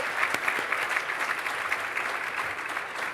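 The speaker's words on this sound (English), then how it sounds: "Give Uncle Brendan another round of applause" Steady applause from an audience at the Research Australia Gala Awards ceremony, a dense continuous patter of many hands clapping at moderate distance throughout, with no talking over it.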